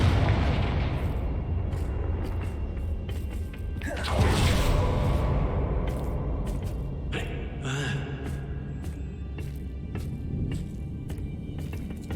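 Confringo spell explosion in the Hogwarts Legacy video game, a loud booming blast that swells midway over a continuous rumbling game soundscape, followed by a fainter burst, with a voice speaking at times.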